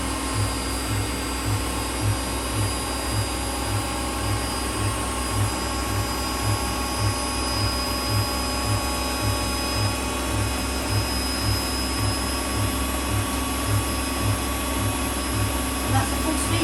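A Whirlpool WWDC 7440 7 kg washing machine spins at its full 1400 rpm with a loud, steady whine and roar. A regular low thumping pulses about twice a second throughout, and a voice speaks over the machine noise.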